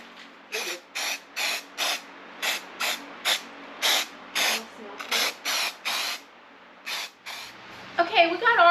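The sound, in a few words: spray painting Merry Christmas through a stencil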